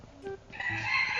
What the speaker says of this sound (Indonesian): Itu ayam doyok ya.